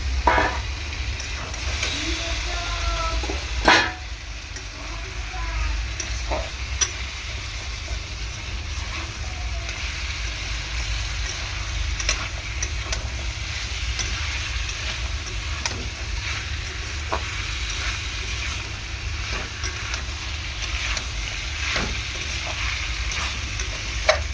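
Cut potatoes frying in spice masala for ghugni, with a continuous sizzle and repeated scraping as the pan is stirred, steady and close for a long stretch without voices.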